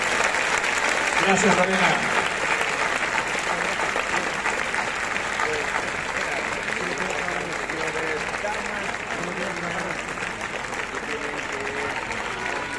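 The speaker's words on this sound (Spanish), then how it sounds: "¡Fuerte el aplauso!" A festival crowd in Lerma applauds at the close of the town's festival proclamation, sustained dense clapping and cheering that stays loud for over twelve seconds, while a voice briefly speaks over it.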